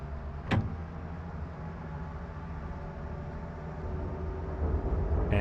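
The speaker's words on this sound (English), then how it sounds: "move the throttle away from you to start the train moving" An electric locomotive in the MSTS train simulator pulls away from a stop, a steady low rumble and hum that builds gradually toward the end, with a brief sharp click near the start.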